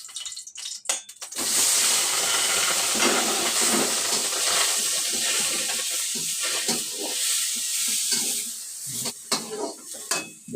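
Tomato and young cassava leaves sautéing in a pan, a loud steady sizzle that bursts in after a quiet second and carries on with scraping stirs and small clatters, no talk.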